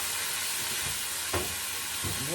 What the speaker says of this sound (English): You can hear that steam going.